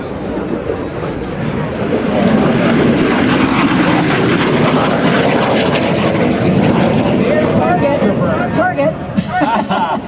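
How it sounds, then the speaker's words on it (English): A loud jet fighter roars past with afterburner lit at a military open house, building into a dense, rushing thunder that holds for several seconds, with crowd chatter faintly beneath. "That afterburner is the raw jet fuel that's being poured into the exhaust"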